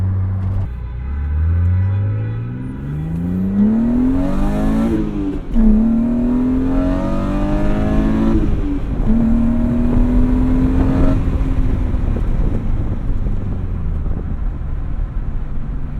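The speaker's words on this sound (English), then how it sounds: "I need to push it. It's been too long since this engine's been pushed." A BMW M3 engine revs hard to the red line on a track and climbs through the gears, pitch rising and dropping with each shift, loud and close, with a steady rumble underneath.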